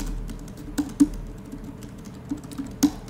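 A few scattered keystrokes on a computer keyboard, close and fairly soft, tapped irregularly with short pauses between them against a low room hum during a programming-languages talk.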